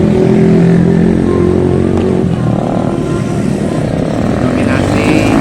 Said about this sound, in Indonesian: Dominasi masih tetap sepeda motor.